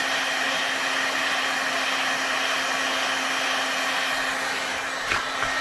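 A heat gun softening the trigger guard area of a Kydex holster blows a steady, close, unbroken whooshing hum with a faint tonal whine.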